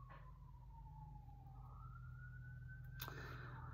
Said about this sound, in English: the sirens, they remind me so much of New York that time, Arthur.